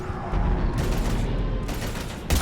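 Rapid bursts of gunfire from the Mass Effect video game battle against Husks, loud and sustained across the whole moment with a sharper blast near the end.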